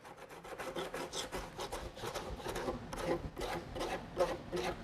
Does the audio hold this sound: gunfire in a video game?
no